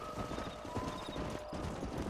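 Horse hooves clip-clop steadily in the Red Dead Redemption video game, a quick, even rhythm of hoofbeats heard close over a dense background of game ambience.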